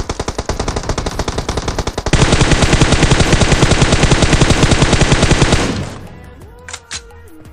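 Rapid automatic gunfire from a gun in the battle royale game PUBG, with a fast, even stream of close, loud shots that gets heavier after two seconds and cuts off near six seconds, leaving faint game sounds.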